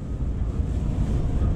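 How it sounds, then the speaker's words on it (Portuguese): Strong wind buffets the microphone in a continuous low roar, loud and close, with no voices, at the Queen Elizabeth Bridge in the UK. "Eu sei que tá ventando essa bosta."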